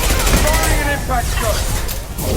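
Impact shot fired in Mass Effect 2 during a firefight, with dense crackling gunfire and bursts throughout, loud and close, mixed with game voices.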